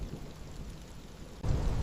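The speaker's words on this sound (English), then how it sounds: "Rain lashes the savanna," Steady rain hisses across a savanna during a thunderstorm, then a deep rumbling surge of thunder swells in near the end, loud and alone without voices.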